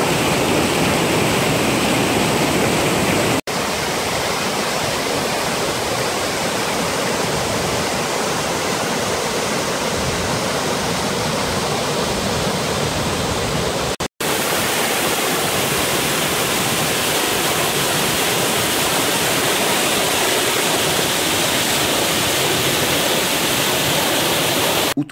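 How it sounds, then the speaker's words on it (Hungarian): The Smidlü waterfall in the Bihor Mountains gives a loud, steady, broadband roar of falling water that fills the air without pause for the whole stretch, with no voices over it. "A Smidlü vízesés elképesztő mélyvágást ejtett a hegyekbe, amit meg se lehet közelíteni"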